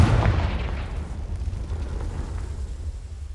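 A Confringo spell explodes in the video game Hogwarts Legacy, a single deep boom that rumbles and slowly fades.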